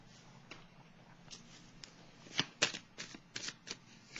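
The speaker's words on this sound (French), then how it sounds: "je vais piger une carte ici" Tarot cards shuffled and drawn from a deck, a run of crisp riffling flutters building into several louder snaps and slaps near the end, close and alone with no talking.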